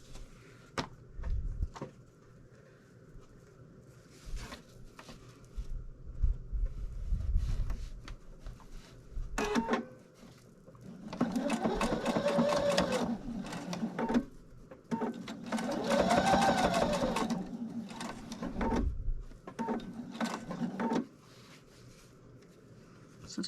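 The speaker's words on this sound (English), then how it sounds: "But I'm going to start sewing down here." A sewing machine stitches binding onto a fabric bowl cozy, running in two sustained bursts with short pauses and a few quieter stitching runs, close up and steady with no talking.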